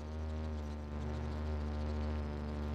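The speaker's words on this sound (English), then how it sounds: "I still hear a big buzz." Bees in the Spelunky 2 video game give a steady, droning insect buzz that holds continuously at a fairly loud level, with no pauses or talk.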